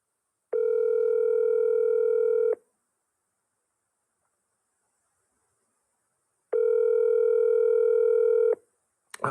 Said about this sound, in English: Calling Taylor Arieh mobile